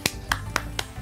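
Five sharp hand claps spaced about a quarter second apart, crisp and close, with faint background noise between them.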